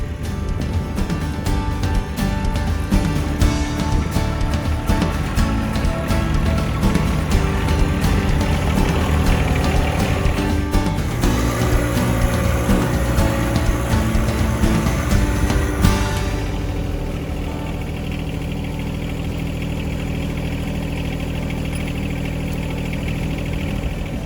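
A farm tractor engine runs steadily at close range for about sixteen seconds, a dense mechanical rumble, then drops to a quieter, smoother idle that continues to the end.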